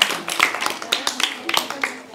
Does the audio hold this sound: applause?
yes